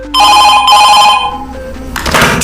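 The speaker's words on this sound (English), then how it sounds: "Night 5's phone call begins with Phone Guy explaining to us how he got f" Telephone in the game FNAF 2 Reimagined ringing loudly nearby, one sustained electronic ring that fades out, then a burst of noisy static-like sound at the end, with no talk.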